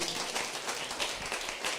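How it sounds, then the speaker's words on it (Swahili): Soft, rapid clapping from a church congregation at a Sunday service, a faint, even patter of many hands that sounds almost like light rain, with no speech. "Makofi mazuri kanisa."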